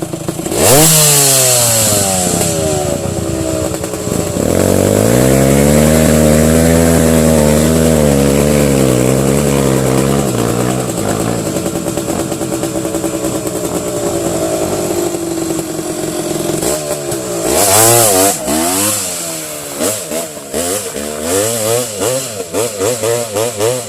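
A dirt motorcycle engine revving hard on a muddy mountain trail, loud and close, its pitch rising and falling through repeated throttle bursts with no pauses.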